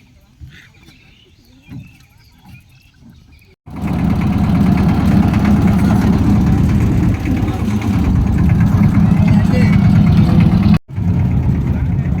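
A boat engine idling at a river ghat, a loud, steady mid-pitched rumble that starts abruptly after a few seconds of quieter background and runs on with only a brief cut near the end.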